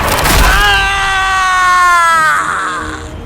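A deep, drawn-out scream rises and then slowly fades, a dramatic sound effect in a Dracula horror audio story, loud and alone with no talking over it.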